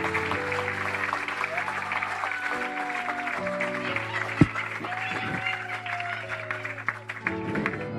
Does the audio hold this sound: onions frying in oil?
no